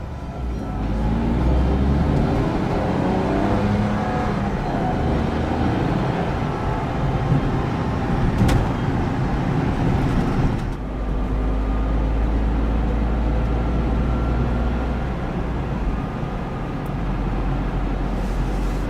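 A 2009 Smart Fortwo Passion Coupe accelerates on the road, its small engine droning steadily under constant road and wind noise, with a shift in tone about halfway through as it changes gear and pulls on.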